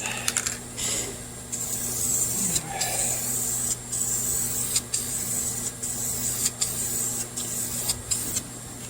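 Dupli-Color vinyl and fabric spray hissing from an aerosol can onto door cards for a 1962 Mercury Comet, a series of short and longer bursts separated by brief breaks, close and fairly loud.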